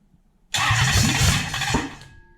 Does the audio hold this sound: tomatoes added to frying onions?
no